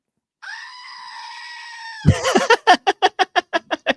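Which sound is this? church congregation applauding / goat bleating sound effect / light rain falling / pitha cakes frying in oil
goat bleating sound effect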